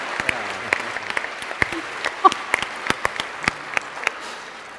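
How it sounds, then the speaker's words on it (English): Scattered audience applause at a staged debate event, with individual claps standing out over a thin crowd murmur. "So I think we should all give him a round of applause."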